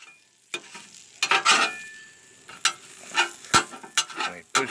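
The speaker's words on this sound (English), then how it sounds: "A little bit of clean on the grill. A little bit of scrape on the Blackstone." A metal scraper rasps across a Blackstone griddle in short, uneven strokes with clicks between them, close and fairly crisp, with no voices.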